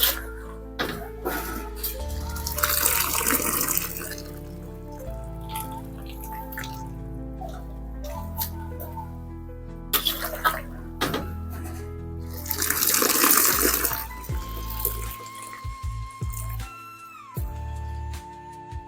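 Cold water splashes and swirls as drained chowmein noodles go into a bowl for street-style egg chowmein, with sloshing and running water near and fairly loud throughout.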